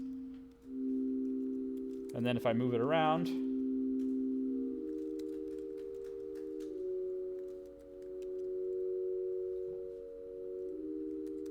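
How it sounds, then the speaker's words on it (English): Slightly detuned sine-wave chord live-coded in Punctual, steady sustained tones that shift pitch partway, with a brief warbling chirp early on and someone speaking briefly over it. "I'm going to make a chord, put a little bit of out-of-tuneness in it so it's listenable."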